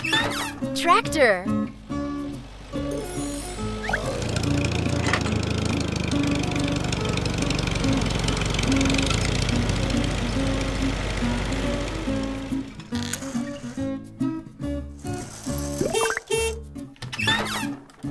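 A rumbling tractor engine chugs steadily for several seconds, broad and noisy, with lively music and voices around it.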